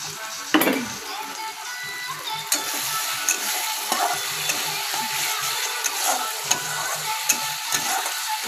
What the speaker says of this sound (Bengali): মশলাটা কষে আসুক, দরকার পড়লে আর একটু লঙ্কা গুঁড়ো দিয়ে দিচ্ছি আমি